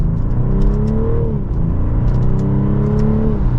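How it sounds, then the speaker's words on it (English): A 2024 BMW 540i xDrive accelerates hard, its engine a loud, close, rising drone with an audible shift midway and a steady rumble underneath. "And with one last acceleration, here we go."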